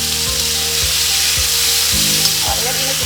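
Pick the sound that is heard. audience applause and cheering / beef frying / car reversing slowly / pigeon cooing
beef frying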